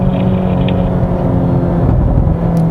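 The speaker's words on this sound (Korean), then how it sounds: "엑셀 살짝 뗐는데 그냥 바로 바방 소리 나주고요" A 2020 Hyundai Veloster N with the DCT gearbox drives under steady loud engine drone, and the exhaust gives faint pops when the throttle is lifted.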